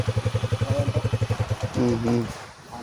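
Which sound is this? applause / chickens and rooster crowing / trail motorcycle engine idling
trail motorcycle engine idling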